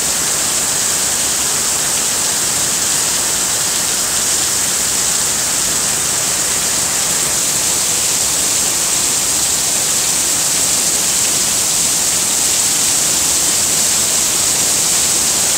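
Heavy rain pours off a roof and overflowing gutters onto a porch, forming a loud, continuous hissing roar that stays dense and unbroken throughout, heard close and with no voices.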